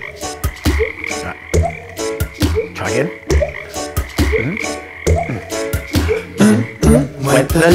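A little green frog croaks in a children's song, over and over in a steady, bouncy rhythm, loud and up front throughout.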